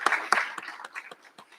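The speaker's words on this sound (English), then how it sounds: "I ask that you join me in giving her another round of applause" Brief burst of audience applause at a recognition ceremony, a ragged patter of many hands clapping that starts fairly loud and thins out over a second or so.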